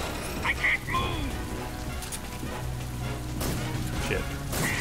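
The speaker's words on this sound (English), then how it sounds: "Like it starts to rain." Rain falls in the Metal Gear Solid 3 video game, a steady patter on surfaces with a few thuds and brief higher sounds mixed in, while a voice talks faintly now and then.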